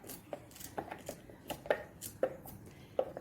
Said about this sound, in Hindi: जब सारी भिंडी आप कट कर लेंगी